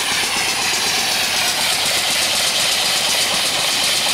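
A small coal-fired steam engine drives an alternator for off-grid DC power, giving a steady loud hissing, chuffing mechanical roar that runs continuously at close range with no talk.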